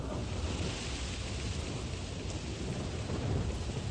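Heavy, steady rain pours down with a dense hiss and a low rumble underneath, continuous throughout.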